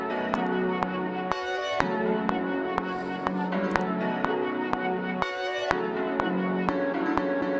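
A dark melody sample with halftime and EQ effects plays as a dense, bell-like tonal loop with sharp evenly spaced percussive ticks, continuous and moderately loud, with no talking.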